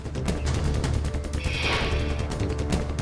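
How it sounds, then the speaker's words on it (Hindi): Firecrackers bursting in rapid, overlapping volleys outside a house in Delhi, a dense crackling barrage that stays loud and continuous throughout, with no voices. "बीजेपी ने दावा किया कि घर के बाहर पटाखे जलाए जा रहे हैं"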